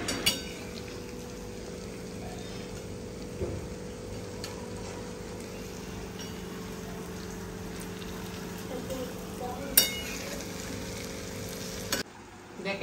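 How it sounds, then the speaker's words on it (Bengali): Palm fruit fritters (taler bora) frying in hot oil give a steady, even sizzle that runs nearly throughout, with a few soft clicks and a short drop near the end. "এখন মা বসে বসে তালের বড়াটাই ভাজছে।"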